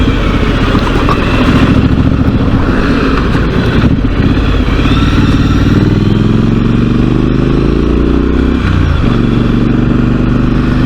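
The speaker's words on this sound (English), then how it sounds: "get a bit of exhaust note out of this one for the twin pipes" A motorcycle engine with twin exhaust pipes rumbles steadily up close with a muted exhaust note, rising and falling slightly in pitch as it runs.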